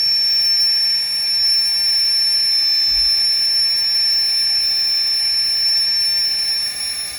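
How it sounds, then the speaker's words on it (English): A steady, loud mechanical whine of an electric air pump inflating an air mattress runs continuously, with a high tonal hum and airy rushing noise, no talking. "You'll kind of hear the pump change a little bit as it gets full."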